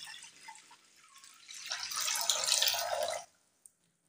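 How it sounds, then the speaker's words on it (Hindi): Water runs and splashes into a cooking pot holding chicken breast for boiling, starting with faint trickles and drips, swelling into a steady close pour, then stopping abruptly with one small clink afterward. "पानी हमने शामिल कर दिया है।"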